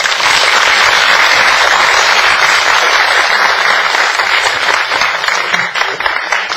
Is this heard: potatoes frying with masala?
no